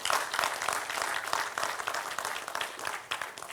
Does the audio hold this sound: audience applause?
yes